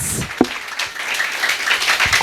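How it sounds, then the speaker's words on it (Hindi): Congregation clapping in a church service, a loose scatter of claps with a sharp close one near the start, moderately loud, with murmuring voices underneath. "Let us clap for Jesus."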